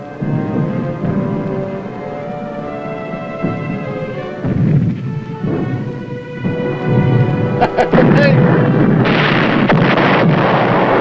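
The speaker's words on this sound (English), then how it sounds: "They're shooting up their own ship!" Heavy gunfire and explosions strike a ship at sea in a wartime submarine drama, with bursts and booming blasts building to a dense, loud barrage toward the end, under raised voices.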